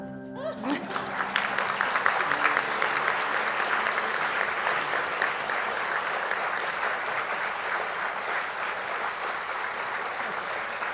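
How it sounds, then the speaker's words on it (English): A large audience at a 2024 school graduation ceremony breaks into sustained, dense applause that swells early and holds steady for about ten seconds, with a brief voice at the very start. "We can keep applauding"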